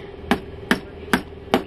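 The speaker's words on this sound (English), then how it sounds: "We don't have a can opener, so we're using a screwdriver." A screwdriver hammered into a food can to open it, four sharp metallic knocks at an even, steady pace, close and loud.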